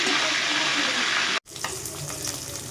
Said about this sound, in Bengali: মাছের মাথাগুলো আমি ভেজে নেব।